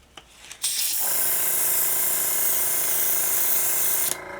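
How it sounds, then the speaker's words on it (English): A steady hiss of spray from an airbrush or aerosol onto a scale model starts after a brief soft rustle, runs continuously for about three seconds, then cuts off. "we're going to spray again."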